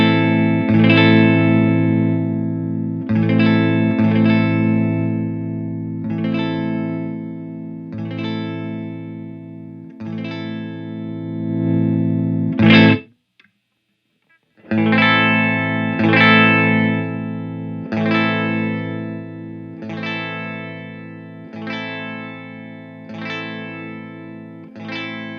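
A Les Paul electric guitar on its neck pickup with 50s-style wiring plays strummed chords that ring out in a steady pattern, falling silent for about a second midway before resuming, with no speech.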